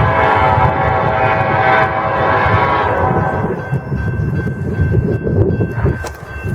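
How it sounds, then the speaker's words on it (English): A road railer freight train rushes through Fostoria at speed, its wheels rumbling and clattering loudly and close, with a steady horn tone sounding through the middle and end of the pass. "This train's gonna be flying through here."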